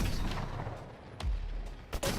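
Sniper rifle fire in the first-person shooter Killzone Shadow Fall, two sharp shots cutting through low rumbling game ambience, one near the middle and one near the end, with no voices.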